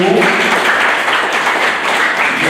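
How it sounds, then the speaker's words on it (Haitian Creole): Audience applause at a school's academic year closing ceremony, with dense, continuous clapping that fills a hall, loud and close throughout. "Et on nous applaudit"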